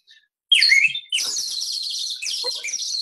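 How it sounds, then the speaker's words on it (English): A bright, warbling whistle from a water-filled bird whistle trills in two sustained bursts, close and fairly loud, with a bubbling, watery flutter to the tone. "I also have one that sounds like a, a bird."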